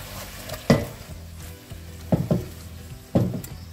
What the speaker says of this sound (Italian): Mettiamo le piante aromatiche con l'aglio.